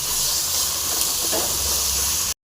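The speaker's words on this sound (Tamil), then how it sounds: "இப்போ நல்லா ஃப்ரை ஆகிருக்கு" Tomato masala for cauliflower gravy fries in a pan, giving a steady, close hiss and sizzle that runs evenly, then cuts off abruptly near the end.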